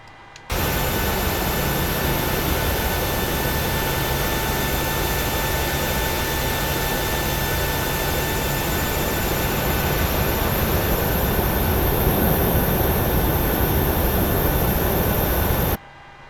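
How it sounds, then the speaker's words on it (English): Jet engines of a PMDG 737-700 running in Microsoft Flight Simulator, a constant loud roar with a high whine that starts abruptly, holds steady for about fifteen seconds and cuts off. "Okay, so 2 good engine starts"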